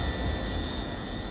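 A GEnx commercial jet engine runs with a steady, dense roar and a faint high whine held throughout the short stretch.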